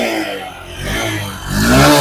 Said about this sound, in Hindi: बाकी एग्जॉस्ट की बात करते हैं तो यहाँ पे आप एक बार सुनो एग्जॉस्ट